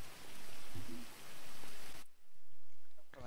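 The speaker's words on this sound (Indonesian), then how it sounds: "Ini hujan, segala-gala hujan." Heavy rain in a Star City video game roleplay hisses as a loud, dense wash that cuts away partway through, leaving quieter background with brief voices.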